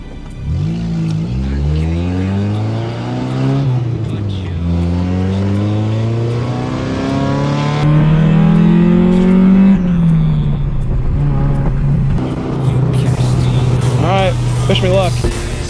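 A $300 race car's engine revs and climbs through gears on track at Gingerman Raceway, rising and falling in pitch, loud and close throughout.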